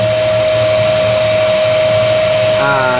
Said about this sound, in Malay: korang nampak tak dust collector ni dia main pusing kat sini